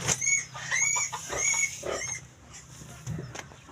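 A pig squeals and grunts in a few close, high-pitched bursts, then quiets down to softer, scattered sounds.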